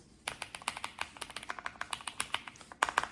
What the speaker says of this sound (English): KEYCOOL 10 key with creamy switches